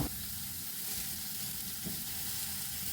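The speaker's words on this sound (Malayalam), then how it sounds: "ഇനി സവാള ഇടാം സവാളയും പച്ചമുളകും കറിവേപ്പിലയും എല്ലാം ഇടാം" Onions, green chilies and curry leaves fry in a pan for a Kerala breakfast curry, giving a steady, close sizzle with a brief stir-like scrape near the start and again partway through.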